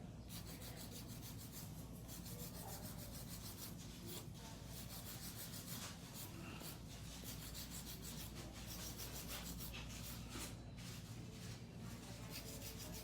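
Electric nail file machine smoothing an acrylic nail surface, a continuous faint whirring hum with soft scraping grit, steady and close, no voices.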